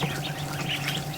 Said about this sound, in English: Look at these ducks in here.